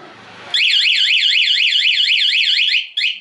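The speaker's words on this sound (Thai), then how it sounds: "ล็อกล็อกหนึ่งครั้ง ตอนโดนรถนะครับ จะมีเสียง ถ้าใครมาแทงก็จะดัง" A loud motorcycle anti-theft alarm sounds up close, its pitch sweeping rapidly up and down in a warbling siren pattern, cutting off briefly before restarting.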